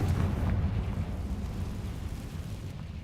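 A Confringo blasting spell explodes in the Hogwarts Legacy video game, a loud, deep rumbling blast that rolls on for about three seconds and slowly fades.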